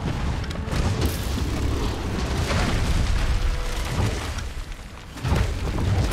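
A bomb goes off in Monster Hunter World, producing a loud, continuous roaring rumble that swells and dips for several seconds without a break.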